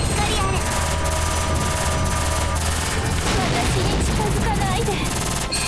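Dense, rapid gunfire from the Nintendo Switch shooter Caladrius Blaze: continuous loud bursts of shots and explosions over game music, relentless and crowded throughout.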